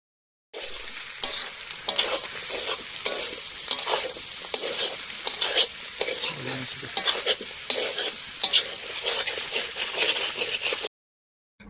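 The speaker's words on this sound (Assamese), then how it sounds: "তো মাংসটোত মই আলু দি দিলোঁ আৰু ভালদৰে ভাজি আছোঁ" Duck meat and potatoes stir-fried together over a fire give a steady, close sizzle, with the scrape of stirring repeating throughout and no voices.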